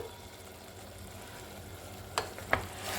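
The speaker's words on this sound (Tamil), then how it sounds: "ஸோ இப்போ இது நல்லா நம்ம வதக்கிடலாம்" Peas, carrot, potato, beans and cauliflower sauté in a pan for vegetable biryani, a steady soft sizzle running throughout with two sharp clinks of a stirring spoon near the end.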